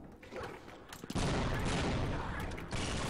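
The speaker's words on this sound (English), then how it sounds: "I'm gonna do another double grenade boost right here." Grenade explosions in Half-Life used for a double grenade boost: a muffled rumble builds, then a sudden heavy blast erupts into sustained loud, noisy roaring, with a second surge shortly after.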